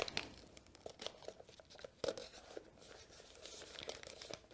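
Adhesive tape being pulled off a roll and torn, a quiet run of crinkly ripping and crunching bursts at close range, with no talking.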